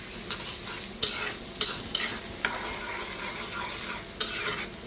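Onions frying with salt and a bay leaf keep up a constant sizzle, while a utensil stirs and scrapes against the pan in irregular strokes with occasional sharper clinks.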